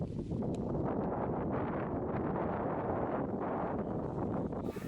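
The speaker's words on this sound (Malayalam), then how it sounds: "നല്ല കാറ്റൊക്കെ ഉണ്ട് അല്ലേ" Strong wind blows through the forest near Chimmini dam, buffeting the microphone with a loud, continuous roar for the whole stretch and no voices.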